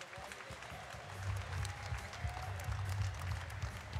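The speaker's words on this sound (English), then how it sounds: "a round of applause once again for these two warriors." An arena crowd at a boxing event applauds two fighters after twelve rounds, a rough wash of clapping and cheering with a low rumbling murmur, moderately distant and swelling after the first second.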